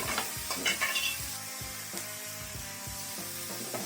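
Minced beef for bolognese sizzles and fries in a hot pan while it is stirred and pushed around. The scraping strokes repeat steadily and sit close, and no one talks over them.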